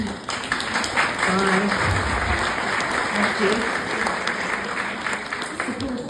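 Dense, sustained audience applause for volunteers at a Thurrock Re-Engage tenth-anniversary celebration, filling the room steadily with a voice faintly underneath.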